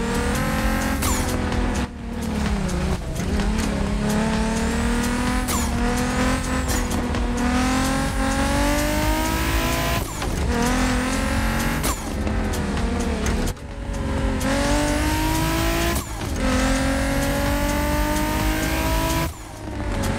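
A car climbing steeply uphill off-road in The Crew Motorfest video game, its engine droning loudly and continuously with rising and falling revs, gear shifts and brief tire noise.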